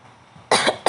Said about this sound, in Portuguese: Você me desculpa por eu estar tossindo.